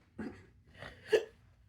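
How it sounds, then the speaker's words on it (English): Three small hiccups from a man, evenly spaced and fairly close, soft and brief against a quiet background. "I'm giving myself the hiccups."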